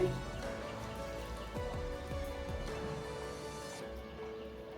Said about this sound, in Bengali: এই পকোড়াগুলো আবার ভেজে নেব গ্যাসের ফ্লেমটাকে মিডিয়ামে দেবো